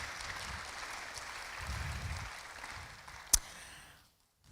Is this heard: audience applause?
yes